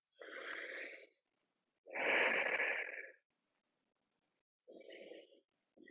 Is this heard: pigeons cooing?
no